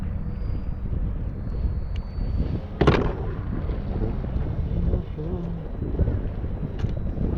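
Steady wind blowing outdoors on open water while kayaking, a continuous loud rumble buffeting the microphone, with a sharp knock partway through and no clear talk.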